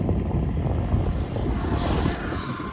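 A drone flies over a green, rainy area, giving a steady, close whirring drone that stays level and continuous with no talking.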